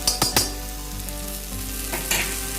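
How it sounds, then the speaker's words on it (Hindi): Ginger garlic paste frying in a pan with browned onions for a chicken yakhni pulao, giving a steady hiss broken by a few quick stirring scrapes. It is close and moderately loud, with no talk. "अब इस टाइम पे मैं इसमें 1 टेबलस्पून के करीब जिंजर गार्लिक पेस्ट डाल दूंगी।"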